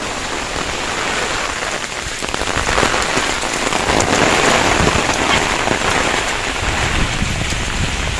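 Heavy rain from Cyclone Sitrang pours down in Bangladesh amid strong wind, a dense, loud, continuous roar of drops hammering surfaces that swells stronger after the first couple of seconds.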